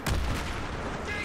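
Rocket explosions pound a burning vehicle in the video game Battlefield 3, a loud, dense burst of booming impacts in the opening moments that decays into a steady rumbling roar.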